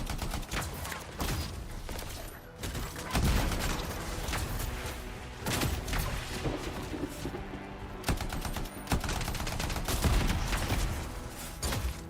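Sustained rapid weapon fire in the video game Anthem, a dense, loud stream of shots with gun mechanisms clattering and little talk over it.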